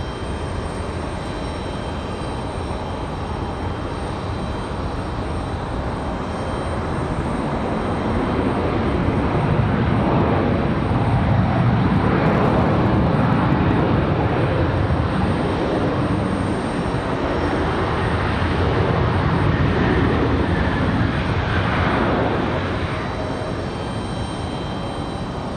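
A Southwest airliner takes off from Raleigh Durham airport, its jet engines building into a broad, powerful roar that peaks midway and then holds steady at a distance, with no talking over it.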